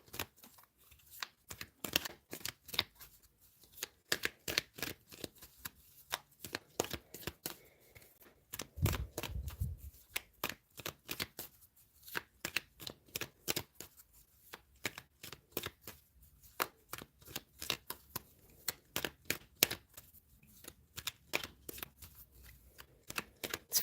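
Tarot cards are shuffled quietly and continuously, a long run of soft riffles and flicks repeating in an uneven rhythm close by.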